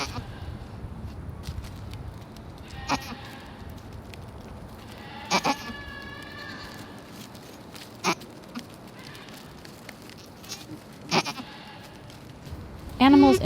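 A goat in labour near a parked van bleats in short, separated calls scattered through the stretch, with a louder, strained cry at the end, over a steady background and a few footsteps.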